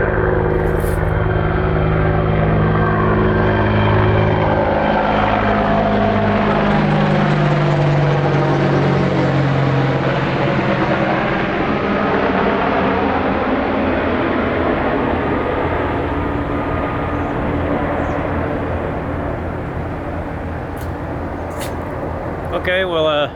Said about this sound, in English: I don't know my military helicopters, but that kind of looked like a Black Hawk